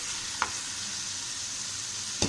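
Mutton with bottle gourd and tomato frying in a pot, an even low sizzle running throughout with two brief spoon knocks, close and quiet.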